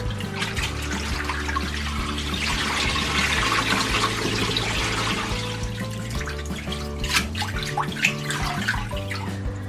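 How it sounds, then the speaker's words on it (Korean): Blanched mugwort is rinsed under running cold tap water, a steady close gush and trickle filling a bowl, with splashy bursts toward the end. "그리고 찬물에 두세 번 정도 씻어서 열기를 빼주세요."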